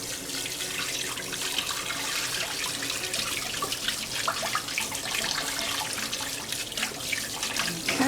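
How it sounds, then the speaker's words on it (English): Kitchen faucet water runs and splashes steadily over herring being rinsed in a sink, a continuous close hissing gush with irregular spatters throughout and no talking. "And then I'm going to rinse it under the faucet."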